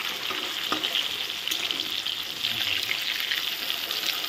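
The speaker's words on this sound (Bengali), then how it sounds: "দেখো এক পাশ ভাজা হয়ে গেছে, আর এক পাশ ভাজা হচ্ছে।" Rui fish frying in oil with turmeric gives a steady, moderate sizzle with fine crackling throughout and a few brief clinks, with no voices.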